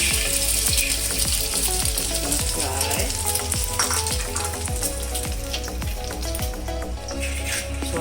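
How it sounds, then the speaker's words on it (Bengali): Egg frying in oil in a pan while being scrambled, a steady loud sizzle and crackle with repeated scraping and stirring strokes of a utensil against the pan throughout. "So now we're gonna fry it like scrambled eggs."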